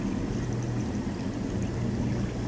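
Narrowboat engine chugging steadily on a canal, a continuous low drone with faint water wash, moderately loud and unbroken throughout, no voices.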